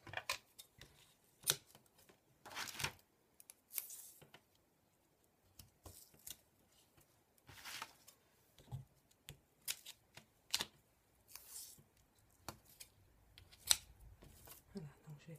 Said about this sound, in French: J'essaye de faire le moins de bruit possible avec les ciseaux.